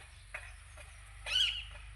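A parakeet gives two short, thin calls, the second louder and more trilling, against a quiet background with a low hum.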